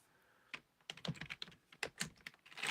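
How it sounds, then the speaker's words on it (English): Quiet, close computer keyboard typing, an irregular run of soft key clicks with brief pauses, heard alone. "I guess this works when the keyboard's turned on"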